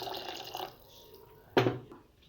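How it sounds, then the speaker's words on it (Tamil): Water is poured into a blender jar while making a turnip gravy, a short, sudden splashing gush after a quieter stretch of faint kitchen sounds. "இன்னும் கொஞ்சம் தண்ணி ஊற்றிக்கலாங்க."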